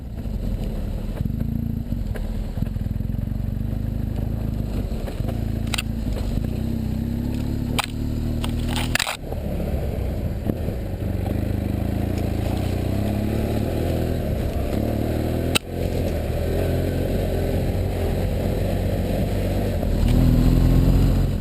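A BMW F800GS and an HP2 dual sport motorcycle riding an off-road trail, engines droning steadily up close with a few sharp knocks and bumps, a brief dip, then a louder surge of throttle at the end.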